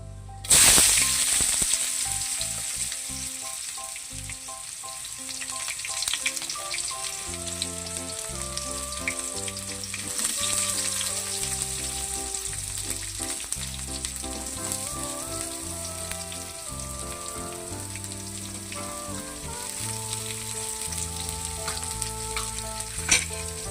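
Cut onions with bay leaf, star anise, cardamom, kalpasi and chilies sizzling steadily in hot oil in a pan for a quail gravy, a continuous close frying hiss alone, with music playing throughout.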